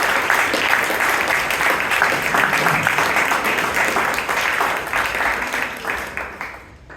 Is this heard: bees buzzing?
no